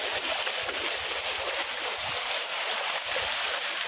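Sungai Makarti, a river in Morowali, rushes steadily in a loud, continuous broadband wash of flowing water, close by and unbroken, with no voices.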